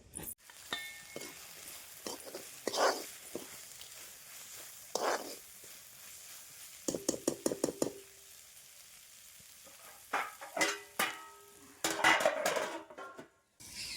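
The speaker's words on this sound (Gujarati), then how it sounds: "તો ચાલો હવે વઘાર કરી દઈએ" Chickpea greens sizzle loudly as they hit hot tempering oil in a pan, with metal utensils clinking and stirring in repeated bursts.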